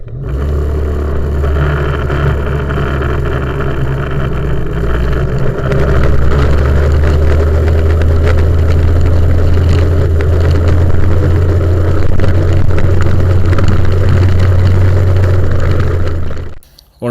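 Loud, continuous engine drone of an MBK 51 moped with a stock variator running close by, holding a steady buzzing pitch with a rising tone midway around 5000 rpm, then cutting out at the end.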